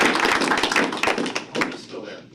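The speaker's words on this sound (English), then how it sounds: "You want to applaud Chuck real quick?" Brief scattered clapping from a small group at a town council financial retreat, a short uneven burst of hand claps and taps that thins out and fades within a couple of seconds.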